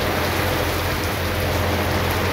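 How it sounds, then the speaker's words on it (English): Steady, dense rain pours down in Paris, a loud continuous hiss of drops hitting surfaces with no pauses or voices. "It kept raining and we kept getting absolutely soaking"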